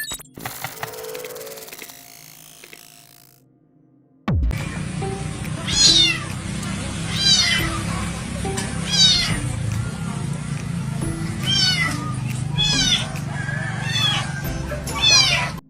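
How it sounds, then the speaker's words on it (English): A small kitten trapped down a well in Singapore cries out in repeated loud, sharp meows and screams, heard up close with a reverberant echo after a quiet start. "A small monkey has heard the screams of this kitten that is caught in a well in Singapore."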